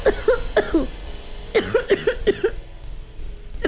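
A person coughs in short, harsh bursts, two quick coughs and then a longer cluster of several, close and fairly loud, trailing into quieter breathing.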